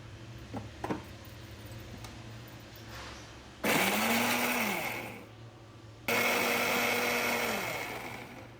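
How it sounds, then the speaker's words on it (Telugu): A mixer grinder blending tomato and dry red chilli chutney, run in two loud whirring bursts of about two and three seconds, each rising then slowing down, with quiet handling clicks before the first burst. "అలా మిక్సీ ప్రాసెస్ చేయండి చూడండి చట్నీ ఎలా వచ్చింది"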